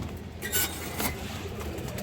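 A pigeon coos softly nearby, a couple of brief low calls over a quiet background with faint rustling.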